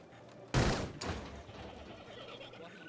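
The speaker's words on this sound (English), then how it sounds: "Some weird delay with the firing the gun" A single gunshot fired in the Blade Runner Enhanced Edition video game, a sharp loud crack followed by a second weaker report half a second later, then a quiet fading tail.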